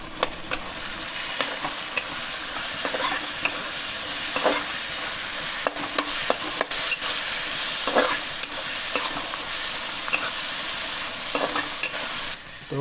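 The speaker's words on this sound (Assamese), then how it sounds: "প্ৰায় পিঁয়াজ আৰু বিলাহীটো ফ্ৰাই হৈ গ'ল" Onion and tomato, with ginger and garlic, sizzle and fry in a pan for chicken curry, with steady crackling broken by frequent sharp clinks and scrapes of a spoon stirring, close and without talk.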